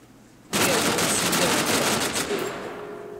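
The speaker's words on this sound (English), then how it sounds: "Ooh, gunfire, gunfire." Automatic gunfire in Totally Accurate Battlegrounds (TABG) erupts suddenly into a loud, sustained rapid burst that holds steady and then tails off slightly, with no other sound over it.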